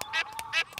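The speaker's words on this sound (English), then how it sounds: "Mrs. Duck laid her eggs on our roof. And now the ducklings have hatched." Ducklings in a Peppa Pig cartoon give a run of bright, nasal quacks and honks, about four calls in quick succession, clear and close with no talk.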